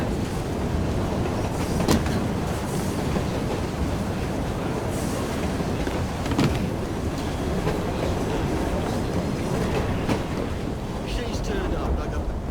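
A steam-era train in Assassin's Creed Syndicate rumbles and rattles in a continuous low, dense roar, with occasional sharper clanks and hisses over it throughout.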